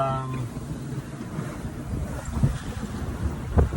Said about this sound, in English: It's northwest wind at about, I guess, 20 knots probably